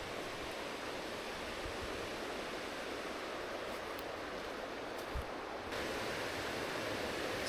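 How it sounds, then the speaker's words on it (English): Creek water rushing near a waterfall, a steady broadband roar of flowing water, continuous and fairly distant, with no voices. "Yeah, you can hear the falls now."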